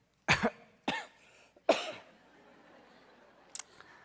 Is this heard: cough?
yes